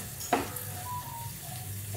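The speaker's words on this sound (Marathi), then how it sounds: "झालं आता त्याची फोडणी देऊन घेते।" A Marathi tempering of spices hits hot oil for curd rice, a close steady sizzle with one sharp crackling burst near the start, no talk.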